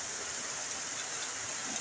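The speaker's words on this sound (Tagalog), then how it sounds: "Napakalakas ng ulan." Heavy rain pours down in a steady, even hiss with no breaks, a dense wash of sound throughout.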